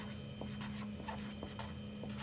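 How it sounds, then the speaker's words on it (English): Writing on a surface for a math word-problem lesson, soft scratchy strokes close up and faint, in short repeated bursts over a quiet hum. "I'm going to go ahead and write it down just to help us out."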